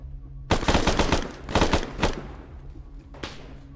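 Automatic gunfire in a tactical shooter video game comes in rapid bursts. A long burst opens, two shorter volleys follow in quick succession, and a final burst lands after a brief lull. The shots are loud, close and punchy.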